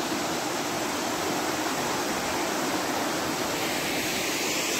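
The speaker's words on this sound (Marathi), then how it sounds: "एक छोटासा असा वॉटरफॉल आहे" A small waterfall near Ghatghar Dam gives off a steady, even rush of babbling water, unbroken and fairly loud throughout with no voices.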